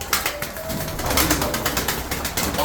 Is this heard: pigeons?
yes